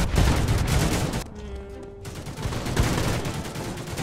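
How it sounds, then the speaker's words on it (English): Rapid gunfire from the plastic toy-soldier shooter game The Mean Greens - Plastic Warfare, loud and dense bursts filling most of the clip with a brief quieter gap in the middle. "Hey, I shot that person."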